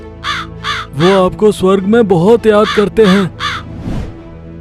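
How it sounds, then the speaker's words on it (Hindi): A crow caws repeatedly in a home courtyard, its harsh calls mixed with a clear, close voice speaking Hindi over it. "आपके आंगन में बार बार एक कौवा आकर बोल रहा है।"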